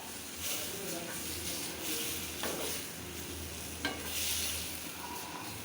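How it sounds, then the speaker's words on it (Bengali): Eggplant curry fries in hot oil and is stirred in the pan, giving a continuous close sizzle with scraping stir strokes throughout. "তেল বেগুন আর একটু হবে তারপরে আমি নাড়িয়ে ফেলবো"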